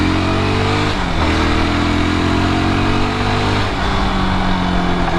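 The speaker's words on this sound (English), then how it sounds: "you can hear bike revving up" A Yezdi motorcycle engine revs steadily and loudly, its pitch rising, dipping briefly and climbing again, close and continuous with no voices.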